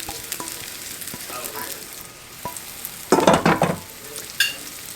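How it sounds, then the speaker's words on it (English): Hushpuppy cornbread batter hits a hot pan for a crispy crust, giving soft crackling sizzle with a few sharp clinks and a louder burst of spattering midway. "You want to hear that wonderful sizzle."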